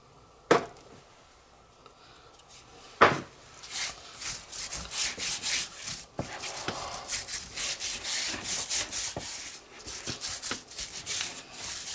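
Raw ribs being rubbed with a dry spice rub by hand, a steady close scuffing and rubbing texture with a couple of sharp knocks early on.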